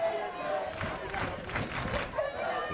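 Small crowd of about a thousand at a women's American football game, Minnesota hosting St. Louis: uneven cheering and shouts that rise and fall in bursts, with scattered voices.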